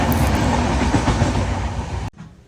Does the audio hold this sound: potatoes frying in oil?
no